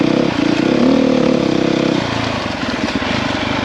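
A dirt bike engine drones steadily and close-up while riding a rough logging trail, swelling slightly and then dropping to a lower, choppier putter.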